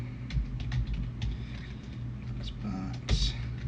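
Keys clatter on a computer keyboard while entering DOSBox commands to install Windows 3.1 drivers, a soft irregular patter of taps up close and fairly quiet.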